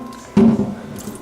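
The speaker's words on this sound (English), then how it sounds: "and then I throw away this water" Rice rinsing water is tipped out in one quick splashing pour, a short wet slosh and squish that rises sharply and fades within about half a second.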